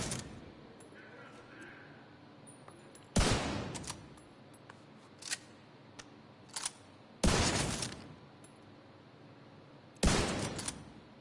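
Rifle fire in The Division, a few separate loud bursts of rapid shots a few seconds apart, with quieter single impacts between them and a player talking faintly underneath.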